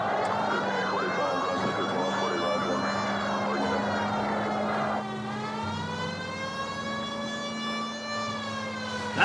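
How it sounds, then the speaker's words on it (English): Police car siren in the video game L.A. Noire, a loud continuous wailing tone that holds steady and then shifts pitch about halfway through, with a low engine hum beneath it. "Turn on the siren"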